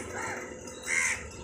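Crows cawing at a home feeding spot where a bowl of water and cooked rice has been set out, a short harsh call rising over quiet outdoor ambience.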